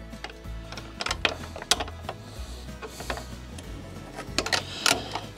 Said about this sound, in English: the 13mm wrench. We're going to go in here and we're going to loosen this nut